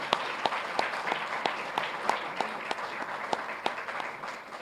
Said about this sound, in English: So you can clap one more time for him in the other room